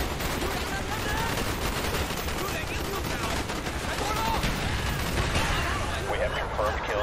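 Rapid automatic gunfire from Call of Duty: Black Ops rattles in dense, continuous bursts throughout, loud and close, with players talking over it.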